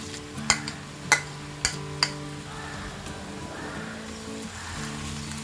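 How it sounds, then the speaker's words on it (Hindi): Raw banana pieces fry in hot oil in a kadhai over a high flame, a continuous close hiss and sizzle broken by a few sharp spatula taps early on, with faint music underneath. "इसे हम पहले 2-3 मिनट के लिए हाई फ्लेम में फ्राई करेंगे"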